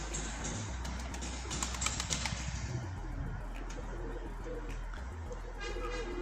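A pigeon coos softly several times outdoors, with low rumbling background noise and some fluttering sounds early on.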